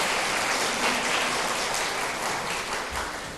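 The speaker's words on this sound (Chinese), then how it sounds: "我用热烈掌声来欢迎他" A church congregation gives warm, sustained applause to welcome a visiting pastor, a dense even clapping that holds steady and loud throughout.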